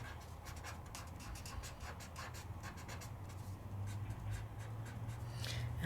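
Soft, steady scratching of a colored pencil on paper, repeated quick strokes against a low background hum.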